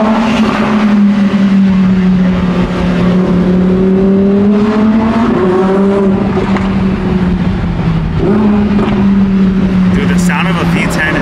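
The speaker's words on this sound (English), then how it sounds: "the sound of a V10 is just insane. And the shifts and downshifts on there are so crispy." Lamborghini Huracan V10 engine revving loud and close from inside the cabin, a steady high drone that rises and drops with crisp gear shifts and downshifts, with voices talking over it.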